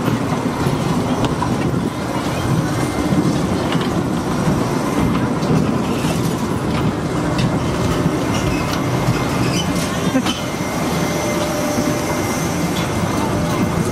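The Fiesta Express roller coaster rumbles and clatters steadily along its track from the back row, a constant loud rolling roar with rattling wheel noise and faint rider shouts mixed in.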